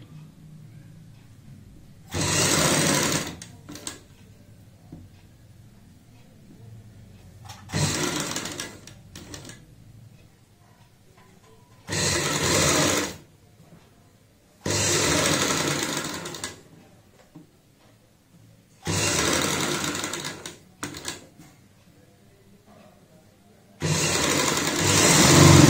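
A sewing machine stitches a girl's party frock in six separate bursts of fast, whirring mechanical rattle, each a second or two long and split by quiet pauses, close and with no talking.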